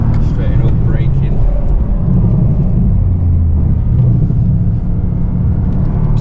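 A car engine accelerating on a race track, rumbling steadily and loud close by as it pulls out of a corner and straightens up, with a constant low drone throughout.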